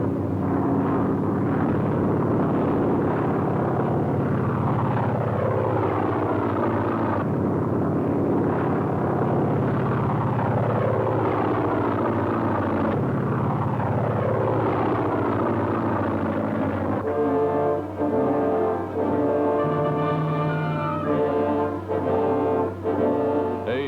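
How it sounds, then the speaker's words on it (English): Navy fighter planes diving in a simulated attack on warships, WWII-era 1943 aircraft, heard as a sustained loud droning engine roar with repeated rising and falling sweeps as each plane passes, alone without voices. "From the air, Navy fighters dive, simulating an actual attack as gunners fight them off"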